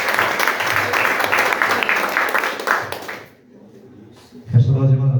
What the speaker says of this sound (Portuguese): vamos receber um ungido com as palmas que glorificam o nome de Jesus